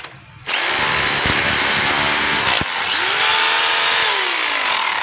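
DeWalt D25133 rotary hammer drill running in chipping hammer-only mode, a loud continuous buzzing hammer rattle that starts after a brief quiet moment and runs steadily, with one short interruption midway.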